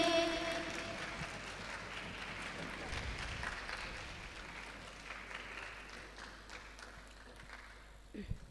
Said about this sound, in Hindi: आपकी भरपूर तालियों में बच्ची की हौसला अफजाई के लिए